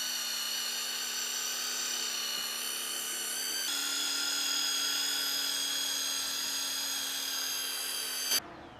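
A power polisher spins a pad loaded with 3M Step 1 compound on a Subaru WRX headlight, a steady high-pitched whine close up that shifts slightly in pitch midway, then cuts off abruptly.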